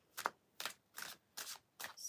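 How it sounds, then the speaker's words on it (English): Tarot cards being shuffled, five short papery riffling bursts in a steady rhythm, close and fairly quiet, with no voices. "All right, shuffling for Gemini."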